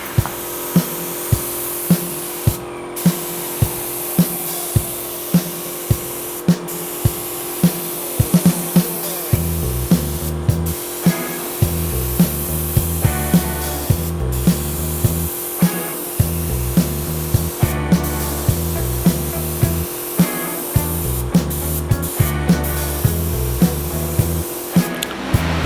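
Steady spray painting of a coat onto a REO Gold Comet car hauler, a continuous close hiss with rhythmic pulsing and bursts of airflow throughout, no voices.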